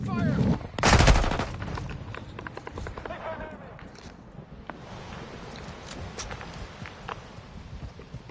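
Video game gunfire, a loud burst of rapid automatic shots early on, then scattered quieter shots and footsteps with voices calling out over the combat.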